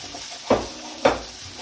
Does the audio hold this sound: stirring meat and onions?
yes